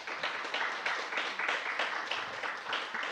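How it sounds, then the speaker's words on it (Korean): An audience at an academic conference claps together in a steady, moderate round of applause that carries on evenly throughout, without anyone speaking. "여러분 박수로 환영해 주십시오"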